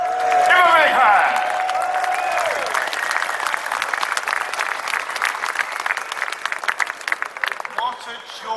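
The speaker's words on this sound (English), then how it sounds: "Give him a big hand." A crowd at a Brexit march in London bursts into applause for a speaker, dense clapping with some cheers that continues steadily, while a voice speaks over the start.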